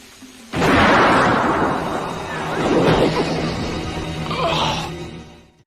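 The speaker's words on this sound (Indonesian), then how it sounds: "Akhirnya Miller pun berhasil melepaskan tembakan sesuai dengan arahan Thomas" A sniper rifle gunshot from the 1993 film Sniper, a sudden loud close blast with a long rumbling, echoing tail that swells again before fading out.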